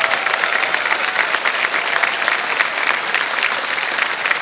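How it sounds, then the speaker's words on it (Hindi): Dense, loud studio audience applause on a television quiz show set, continuous even clapping throughout with no talk over it. "जल्दी से तालियां बज जाए इनके लिए।"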